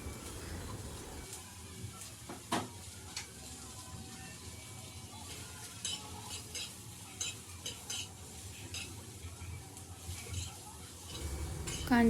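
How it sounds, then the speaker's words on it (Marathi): Two medium onions sautéed and stirred on a hot tava for a chicken curry, giving a steady background sizzle with repeated scraping and clinking of the spatula against the pan, no voices. "कांदे असे चांगले 5 ते 6 मिनटं परतून द्यायचे"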